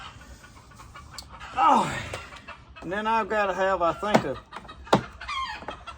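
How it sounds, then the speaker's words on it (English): Chickens freshly fed clucking and squawking in a farmyard, scattered excited calls and a rising squawk run near the mic, with someone talking over them. "I just fed chickens and picked the eggs up, and they all excited and mad"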